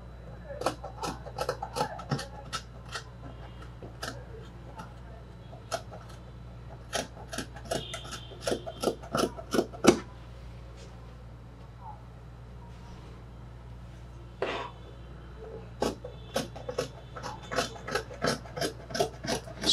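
Scissors cut through fabric for a shirt's back yoke, making a series of sharp, quiet snips in irregular clusters with pauses, close by under a low steady hum.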